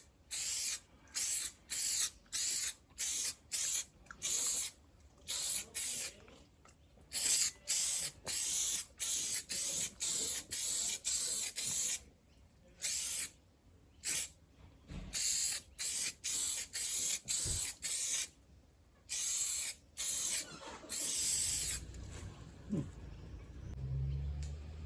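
Spray gun applying new gold paint to a car body on an LC Torana two-door conversion, with repeated bursts of sharp, close hissing spray separated by brief pauses, fading to quiet shop noise at the end.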